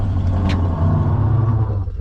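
A Ford F150 truck engine, recently fitted with a new rear fuel tank after bad tanks, runs loud and near with a steady low rumble, a short sharp click near the start.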